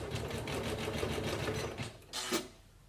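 A Janome Memory Craft 9900 embroidery machine stitches in a fast, steady mechanical rhythm, close and fairly loud, then slows with a brief whirring burst near the end.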